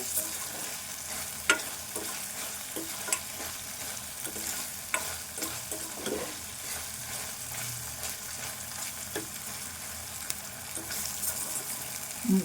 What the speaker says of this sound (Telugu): ఈ పచ్చిమిర్చి కూడా మంచిగా గోలాలి